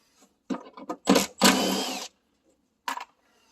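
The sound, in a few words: power tool removing bolts from Hyundai wiper linkage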